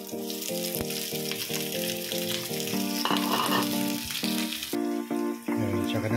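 Garlic and onion sauté in a pan as the base for kaldereta, giving a steady, close sizzle that runs continuously with intermittent stirring noises.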